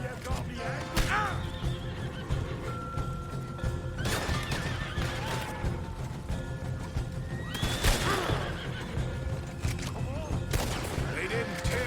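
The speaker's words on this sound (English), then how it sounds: "Блин, там лошади." Horses in the Red Dead Redemption 2 video game neigh and whinny loudly several times amid gunfire, hoofbeats and crashing noise, with voices talking over the chaotic scene.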